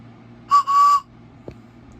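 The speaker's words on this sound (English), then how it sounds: "This is a real spike whistle." Antique railroad spike whistle blown in two short shrill blasts, the second longer, loud and close, followed by a faint click in a quiet room.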